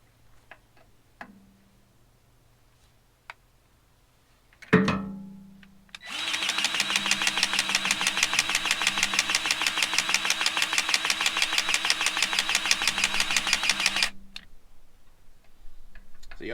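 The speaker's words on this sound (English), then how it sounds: "I'm gonna grease on this thing for a second and let y'all listen to the gun and everything else" A DeWalt cordless grease gun runs steadily for about eight seconds after a sharp click, its motor giving a loud, even ratcheting whir that stops abruptly, with quiet surroundings before and after.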